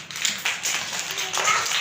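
Children in a Montessori class clap together in short bursts, a few scattered claps merging into a busy patter, close and fairly loud, with a voice faintly in the background.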